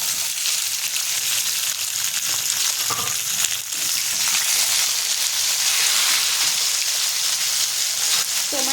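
Tomatoes frying in a pan for a no-onion, no-garlic spice paste, with a dense, loud, continuous sizzle and occasional stirring clinks close by, steady throughout.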